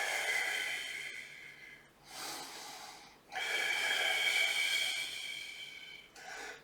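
Heavy, audible breaths during a no-equipment Pilates workout: two long sustained breathy exhalations with short pauses between, close to the microphone, and no talking.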